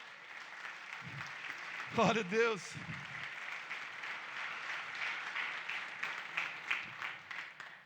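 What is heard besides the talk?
church congregation applauding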